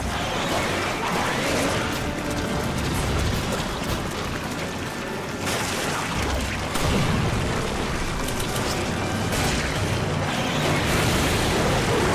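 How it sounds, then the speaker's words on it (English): Incendiary grenades going off in the video game Resident Evil 5, a continuous dense roar of booms and crackling bursts that stays loud throughout, with several heavier blasts standing out from the churning fire. "Time to switch to the incendiary grenades."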